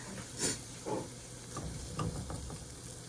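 Pepper steak with broccoli simmers in a pan, giving a steady soft sizzle and hiss with a few brief louder pops and stirring clicks, close and unbroken, with no talking.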